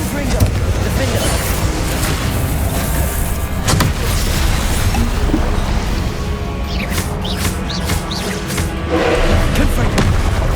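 Repeated Confringo fire-spell explosions in Hogwarts Legacy, a continuous heavy rumble of booms and thuds with a few sharper cracks, loud and busy throughout.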